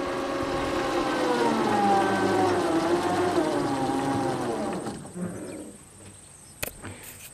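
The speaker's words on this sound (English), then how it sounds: "Now that it's lowered, I'll stop the PTO motor." An electric tractor's PTO motor hums with a rising and falling tonal whine close by, then winds down and stops, leaving near quiet broken by a couple of sharp clicks.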